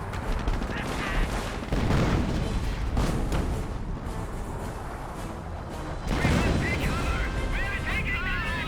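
Shells slam into a mortar half-track in a Company of Heroes 1 battle, a steady barrage of artillery bursts, gunfire and crashing impacts rolling through the mix, with a commentator talking over it.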